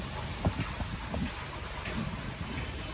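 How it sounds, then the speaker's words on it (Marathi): Steady rain falls outdoors near a parked car during a family outing, a continuous hiss with scattered soft drops, moderately faint and without speech. "इकडे पाऊस पडत आहे."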